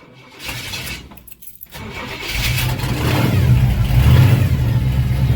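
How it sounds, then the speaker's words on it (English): A carbureted 1986 Chevrolet Suburban truck engine cranks briefly, then catches and settles into a loud, steady, rough idle that builds slightly in volume, with no talking. "How to start an old truck with a carburetor."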